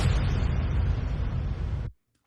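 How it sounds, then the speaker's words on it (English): A sweep and impact effect in a phonk remix: a dense, roaring burst of broadband noise with heavy low end holds for about two seconds, then cuts off abruptly into silence. "we have this little sweep and impact here"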